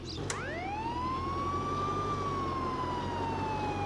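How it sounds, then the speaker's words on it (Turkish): Police car sirens wail in the Contraband Police video game, one loud rising sweep climbing into a sustained, slowly falling tone, close and continuous over the low hum of the vehicle. "Bir de sirenleri açalım bakalım sirenlerle nasıl oluyormuş."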